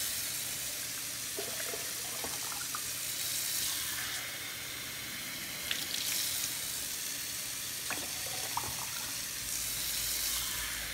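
Steady hissing rush of hot water being poured, continuous for several seconds, with a few faint clinks of a container.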